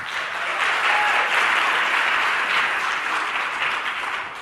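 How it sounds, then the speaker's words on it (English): Audience applause for the judges at a startup pitch night, a dense, steady wash of clapping holding evenly loud for several seconds with no voices over it. "Let's give all of our judges a big round of applause."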